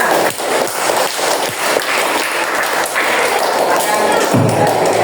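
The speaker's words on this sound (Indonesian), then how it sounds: "Tepuk tangan semuanya." A classroom full of people claps together in a brief, dense burst of applause that fades after a few seconds.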